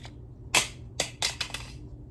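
A pistol magazine is dropped out during a quick reload, heard as a sharp metallic click followed by several short clacks and rattles, close and distinct against near silence.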